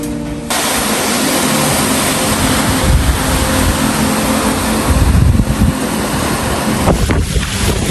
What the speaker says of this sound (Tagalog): Kasi malakas pa naman hangin pero ambon pa lang.